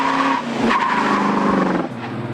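A 1969 Oldsmobile 442 W-30 with dual exhaust driving past, its engine note droning steadily with shifting pitch and a brief tire-like squeal, loud and close throughout.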